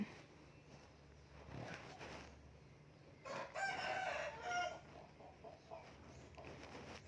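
Chickens cluck and a rooster crows at a distance, fairly faint against steady outdoor background noise.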